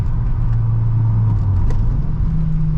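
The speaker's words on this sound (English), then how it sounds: "Yeah, you can just like rev match so easily." Ex-police Volvo T5 engine during rev matching, a low rumbling idle-to-rev hum that rises in pitch toward the end, close and continuous with no talk.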